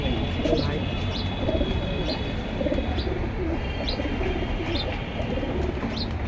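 Military-breed pigeons at a bird market cooing in repeated soft, rhythmic calls with light chirps over a busy background murmur, close and steady.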